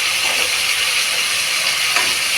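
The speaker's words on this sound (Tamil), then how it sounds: "தக்காளி நல்லா குழைய வதங்கணும்" Tomatoes sautéing in a pan for Karaikudi-style tomato rice, a continuous even hiss of frying with no pauses, close and fairly loud.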